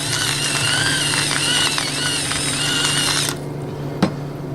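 A salt grinder cranks salt over a potato ricotta tart filling, giving a loud, steady ratcheting grind for about three seconds before stopping, followed by a single sharp tap.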